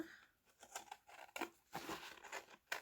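Scissors snip through paper to make a pocket for a farmhouse-style journal, giving a few short, quiet cuts and crinkles close by, with no talking.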